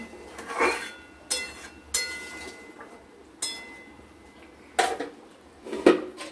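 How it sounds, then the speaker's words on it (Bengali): A metal lid clinks onto a cooking pot while a hilsa fish dish simmers, giving about six sharp, separate clanks spaced a second or so apart against a quiet kitchen background. "এবার আমরা ঢাকনা করে দেখব"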